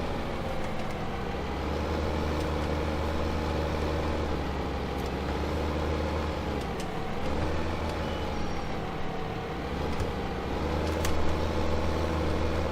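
A John Deere tractor engine idling in Farming Simulator 2015 on a muddy field, a steady low diesel rumble held close and constant, with faint clicks and no talk.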